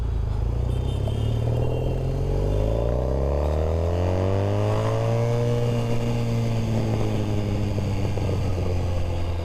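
A Triumph Bonneville, a heavy British motorcycle, revs its engine close by, the pitch climbing and falling in a smooth sweep over a steady rumble.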